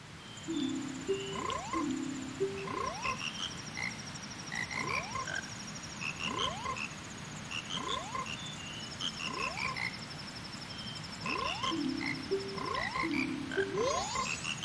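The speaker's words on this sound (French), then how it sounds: "dans la zone des montagnes avec les petites grenouilles" Small frogs in the mountain area of Zelda: Majora's Mask croak in a steady, repeating game-music-like pattern, with bright chirping calls over a soft ambient bed, no talk.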